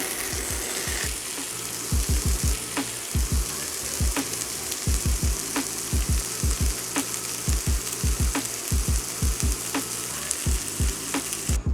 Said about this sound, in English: now start cooking them and start frying them up a little bit